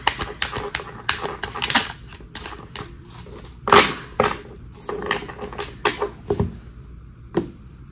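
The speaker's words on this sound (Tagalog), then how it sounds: "balasahin lang po natin mabuti" A deck of playing cards is shuffled by hand nearby in a quick series of sharp riffles and slaps, the bursts irregular and loud against a quiet room.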